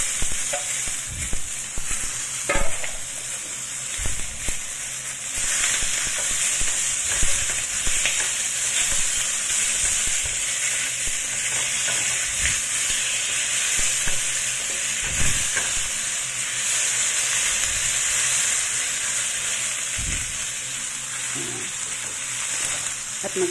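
Chayote, garlic, ginger and scallion stir-fry in a pan for a Filipino recipe, sizzling with a steady hiss while a utensil scrapes and knocks against it at irregular intervals, close up and without talking.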